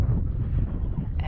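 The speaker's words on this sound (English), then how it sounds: "nice wind right here" Strong wind buffets the microphone on a mountain trail on Mount Chocorua, a low, rumbling, gusty roar that runs steadily through the short moment with no voices.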